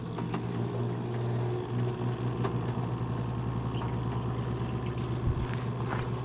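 A reverse osmosis unit processing maple sap runs with its needle valve fully open, producing a loud, steady mechanical drone and pump hum with constant tonal whine and no pauses.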